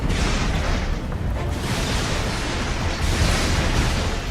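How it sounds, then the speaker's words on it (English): A huge explosion tears through a city in the video game inFamous, a dense, continuous roaring blast rumble that stays loud and broadband throughout, with no voices. "creates a great explosion in the city, and kills a whole bunch of people"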